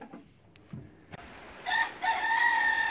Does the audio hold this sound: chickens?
yes